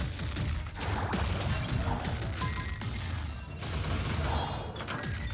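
Wizard of Legend gameplay as the player character dies, dense crashing and whooshing combat effects over continuous loud game noise, with no clear break.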